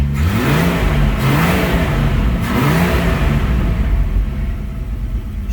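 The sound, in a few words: AMC 199ci engine revving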